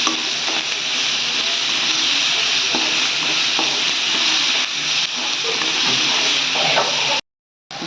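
Chopped onions and ivy gourd sizzling steadily in a hot pan, a loud continuous frying hiss broken by occasional scrapes and stirs, then a brief cut to silence near the end.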